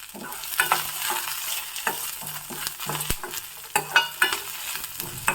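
Curry leaves and a chili sizzle and crackle in hot oil, with a steady frying hiss broken by repeated scraping strokes of a spoon stirring the pan, close and fairly loud, no voices.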